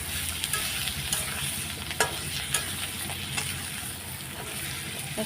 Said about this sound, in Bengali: তো একটু নাড়াচাড়া দিই আর সামান্য একটু জল দেব জল দিয়ে কষাবো